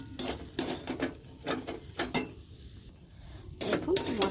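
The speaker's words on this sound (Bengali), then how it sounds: "এবার মাংসগুলো মশলার সাথে কষে নেব।" Boiled chicken pieces being stir-fried with spices in a pan, with a series of scraping and clattering strokes of a spatula against the pan, close and fairly loud, pausing briefly before resuming.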